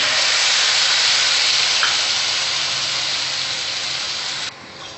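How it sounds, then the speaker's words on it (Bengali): Mustard paste frying in hot oil, a loud, continuous sizzle that stays strong and close, then drops suddenly to a quieter hiss near the end. "এবার সর্ষে বাটাটা দিয়ে দিচ্ছি"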